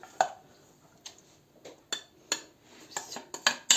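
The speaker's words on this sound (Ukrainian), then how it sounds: "Ще вінчиком добре так розмішаємо" A whisk stirs batter for meat-filled choux-dough pastries in a bowl, scraping and clinking against the sides in irregular bursts, close and fairly quiet.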